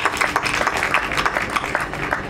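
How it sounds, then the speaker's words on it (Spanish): Clapping from a modest group at the closing press conference of the Viña del Mar festival, close and moderately loud, with uneven individual claps audible in the brief burst. "fuerte el aplauso"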